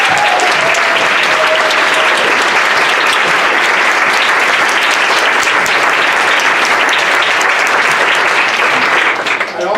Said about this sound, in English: Please join me in applauding them